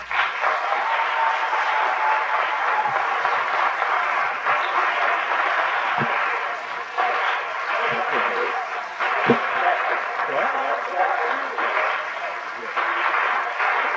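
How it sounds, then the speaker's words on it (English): Audience at an event on the Elaine Massacre gives a sustained round of applause, dense steady clapping throughout with a few louder individual claps and faint chuckles underneath. "I'd like to give a rousing round of applause to both Sheila Walker and Chester Johnson."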